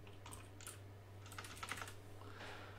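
Someone types quickly on a computer keyboard, in short bursts of soft, close clicks with brief pauses between them, heard alone.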